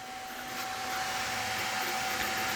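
A K1 3D printer running in fine mode with 0.1 mm layers, its motors and fans giving a steady, fairly loud whirring hum with a constant tonal whine throughout, no talk.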